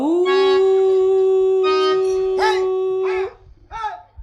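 A man imitates a dog howling with his voice, holding one long, loud, wavering howl close up, then breaking into several shorter rising yelps and cries.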